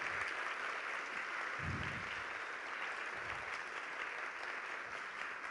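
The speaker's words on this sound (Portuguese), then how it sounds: "eu queria pedir uma salva de palmas para os estudantes que estão presentes." Audience applauding at a book launch seminar, a steady, even patter of many hands clapping at moderate distance, with a brief low thump or murmur partway through.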